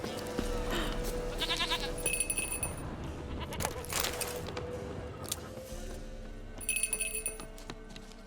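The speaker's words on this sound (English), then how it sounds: "Little goat." Goat bleats in The Witcher 3: Wild Hunt, several short calls repeating over steady game ambience with clinking and rustling, moderately close.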